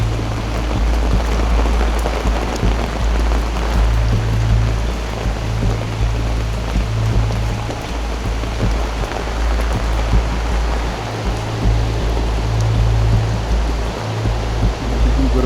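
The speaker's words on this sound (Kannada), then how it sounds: "ಮಳೆ ಮಾತ್ರ ಜಾಸ್ತಿ ಇದೆ." Heavy monsoon rain along the road to Jog Falls in Karnataka, heard as a loud, steady broadband wash with a continuous low engine-like drone running beneath it; no one speaks.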